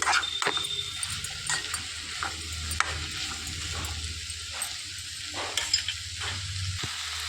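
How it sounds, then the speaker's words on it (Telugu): Ridge gourd pieces go into a pan of cooked-down tomato and are stirred, making a close sizzle broken by repeated rhythmic scraping and clinking strokes of the spoon against the pan, with no voices. "ఇందులోనికి బీరకాయ ముక్కలు వేసేసుకోవాలి. మొత్తం కలిపేసుకోవాలండి."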